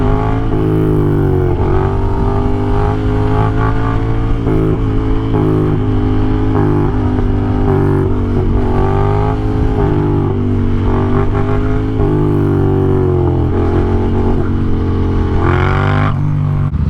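Yamaha FZ07 motorcycle engine running loud and close, its throbbing idle rising and falling in repeated revs with a steady growl throughout.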